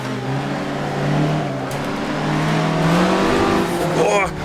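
A 1967 Russell Alexis Mk.14 Formula Ford race car in Assetto Corsa, its engine droning and rising in pitch as the tires squeal through a spin, with someone talking over it throughout.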